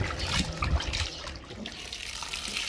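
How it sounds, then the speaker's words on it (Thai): Blanched green mussels rinsed under running water, a steady splashing and trickling from a tap into a sink, fairly close and continuous, without talk. "แล้วเราก็ล้างน้ำก่อนนะครับ ก่อนจะเอาไปปรุงอาหาร"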